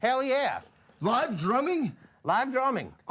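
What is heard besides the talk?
None of the usual background noises is heard.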